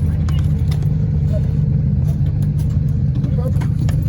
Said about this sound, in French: Passe Pernay Jeannot avec cette 205.